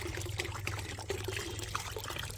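Water trickles and pours into milk to dilute it, a soft steady liquid stream at moderate level with no talk over it.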